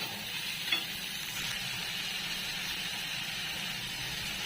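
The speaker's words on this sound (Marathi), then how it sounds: "तर चांगला कांदा भाजून द्यायचा आपल्याला" Onion roasting on a hot griddle used earlier for roasting brinjal and making bhakri, a steady soft sizzle throughout with one brief clink near the start, no voices.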